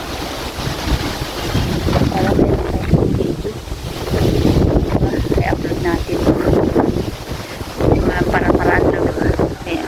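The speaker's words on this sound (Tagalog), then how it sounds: "Hangin talaga guys." Strong gusting wind roars across a microphone on a rooftop beside a water tank, loud and steady with surges, while people talk over it.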